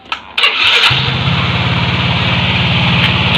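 An automatic scooter with a high, slow-to-drop idle starts up loud and close with a quick crank, then settles into a steady, rapidly pulsing idle.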